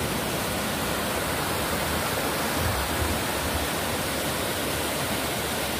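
A river in Puting Bato, Agusan del Norte, rushes in a steady, dense roar of flowing water, close and unbroken, with no voices.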